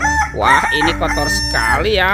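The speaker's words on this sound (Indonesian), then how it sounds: "Yang ini ada ayam berkokok." Toy rooster crowing, played while a child searches through toy animals; a sustained, warbling call sounds close and fairly loud for about two seconds, with a brief spoken remark alongside.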